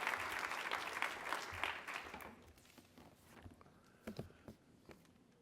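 Conference audience applause greets a speaker being welcomed to the stage at the Manning Conference, a dense wash of clapping that fades after a couple of seconds into scattered claps and a few louder isolated ones, with no talking.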